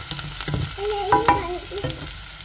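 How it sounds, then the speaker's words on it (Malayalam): Fried rice is tossed and stirred in a pan over a high flame, with a steady sizzle broken by quick scraping strokes and a few clanks. "അതിൻ്റെ കൂടെ എന്നിട്ട് നന്നായിട്ടൊന്ന് ഇളക്കി കൊടുക്കണേ."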